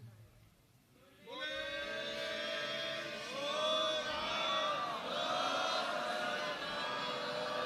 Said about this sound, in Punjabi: ਇਸ ਤਰ੍ਹਾਂ ਜੈਕਾਰਾ ਬੁਲਾਓ ਜਿਵੇਂ ਸਾਰੀ ਸਿੱਖ ਸੈਨਾ ਬੁਲਾਉਂਦੀ ਸੀ, ਗੱਜ ਕੇ ਬੁਲਾਓ